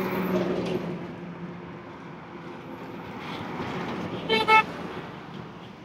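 Traffic on a roadside in the rain, with a steady low rumble of heavy vehicles passing and a short, loud horn toot near the end.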